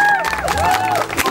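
Wedding guests break into loud applause and cheering, with whistles or excited voices rising over the dense clapping of the crowd.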